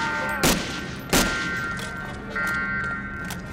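Shots from a weapon in Medal of Honor: Allied Assault, a few sharp isolated cracks spaced apart over steady game background noise, fairly close and distinct, no voices.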